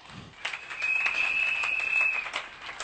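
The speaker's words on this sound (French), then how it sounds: "Acclamons très fort." Applause from a congregation during a French and Lingala sermon, a steady wash of many hands clapping at moderate loudness for a couple of seconds, with a faint tonal whistle or feedback note running through it.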